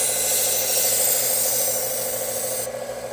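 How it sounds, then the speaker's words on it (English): Knife edge drawn lightly across sandpaper with almost no pressure: a continuous, close, steady raspy scraping hiss that fades slightly at the end. "I'm just barely touching it to the sandpaper"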